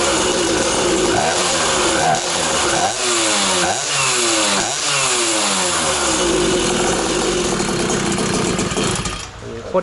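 A 63cc two-stroke gasoline scooter engine runs loud and close, buzzing at idle then revving up and down in repeated rising and falling sweeps before cutting off near the end.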